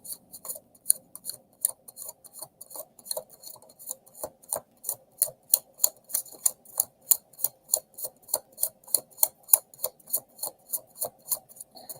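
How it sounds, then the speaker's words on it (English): Tarot cards are shuffled close up in a quick, regular series of crisp riffling snaps and light flicks that repeat steadily, fairly quiet, with no talking. "All right, that was a good shuffle."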